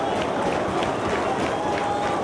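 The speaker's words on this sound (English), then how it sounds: "I can't hear over this crowd" A wrestling arena crowd roars during a Joe versus CM Punk match, a dense continuous wall of cheering and noise at steady loudness, with faint voices mixed in.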